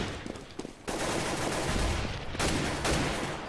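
Rapid gunfire from the video game Counter-Strike: Global Offensive, a burst of sharp shots and fusillades cracking in quick succession, loud and alone.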